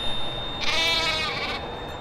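A single goat bleats once, a near, wavering cry lasting about a second against quiet background.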